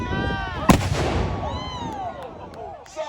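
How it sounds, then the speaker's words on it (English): Black-powder guns fire at a medieval weekend at Arundel Castle, one sharp, loud report booming and echoing away amid crowd murmur and voices. "they've each fired their guns"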